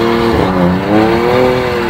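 A BMW M3 drifts on a track, its engine revving high with a rising and falling wail as the tires squeal, loud and close for a couple of seconds with no talking.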